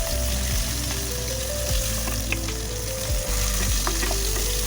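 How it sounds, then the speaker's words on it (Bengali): Onions and potatoes frying in oil in a pan for an aar fish curry, a steady loud sizzle with occasional stirring scrapes over a low background hum. "এখানে পেঁয়াজ আলু সব ভাজা হচ্ছে, আর মাছ ভাজা হয়ে গেছে।"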